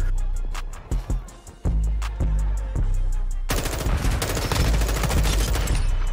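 Rapid automatic gunfire from Modern Warfare 2 during a Team Deathmatch match, with sharp separate shots at first, then a loud sustained burst of continuous fire filling the second half, close and dense.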